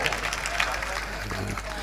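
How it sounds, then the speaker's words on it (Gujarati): An audience claps to welcome a performer at a Mahashivratri folk music gathering in Junagadh, with steady mid-level applause mixed with crowd murmur and background hum, while a voice speaks over it. "તાળીઓથી અને વધાવો."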